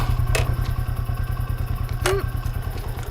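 A motorcycle engine idles with a steady, close mid-pitched putter as the bike comes to a stop, with a couple of brief knocks and clatters over it.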